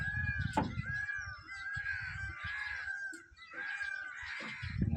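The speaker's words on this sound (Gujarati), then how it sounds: "મોરલા પણ ટવ ટવ કરી રહ્યા છે" Repeated loud bird calls ring out over a rustling outdoor background, several harsh cries spaced through the clip, like peacocks calling nearby.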